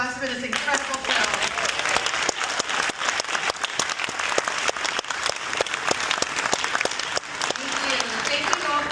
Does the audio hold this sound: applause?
yes